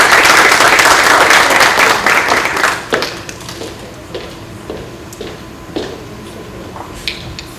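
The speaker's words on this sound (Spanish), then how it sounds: "recibamos con un fuerte aplauso al doctor Sebastián Moyo" Strong applause from a Spanish-speaking audience welcoming a doctor to the stage, loud and dense at first, then breaking into scattered individual claps that trail off.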